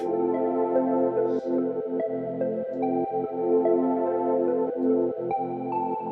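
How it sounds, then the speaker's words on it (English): A soft, mellow synthesizer plays sustained harmonic chords with gentle low plucked notes pulsing underneath, steady and unhurried, with no voices. "where you have a synth that sounds like this"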